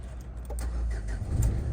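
A 2016 Renault Duster engine idles steadily, a continuous low rumble close by with a few faint clicks and rattles on top, no one talking.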